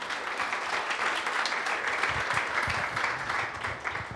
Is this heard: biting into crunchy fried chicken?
no